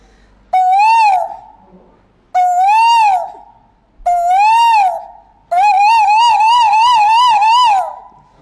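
A human voice imitates an Asian koel call in four loud, rising whistled phrases, three short ones and a longer warbling one, with no other sound around them.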